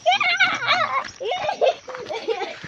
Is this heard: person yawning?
no